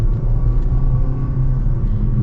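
A 2025 Nissan Kicks SUV accelerates under throttle, heard from inside as a loud low engine rumble with a steady, slightly rising tone and no talk.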